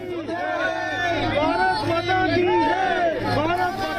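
Dense Indian crowd welcoming the Prime Minister, a steady wash of overlapping chatter, calls and excited voices, loud and close throughout.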